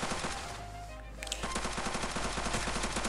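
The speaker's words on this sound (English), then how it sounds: "I'm just like shooting out nothing right now. I gotta hit my shots. I'm just wasting bullets." A P-90 submachine gun fires in the shooter game Pixel Strike 3D. After a short lull, loud, rapid, continuous bursts of close gunfire follow, with no talking.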